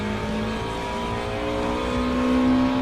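A Subaru Impreza 22B-STi race car at full speed in Gran Turismo Sport, its engine droning in a steady, loud held tone that rises slightly in pitch near the end, with no talk over it.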